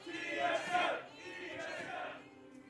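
An esports arena crowd at the LCS Summer Playoffs between EG and TSM swells into two broad waves of cheering and roaring, loud and diffuse, then eases back.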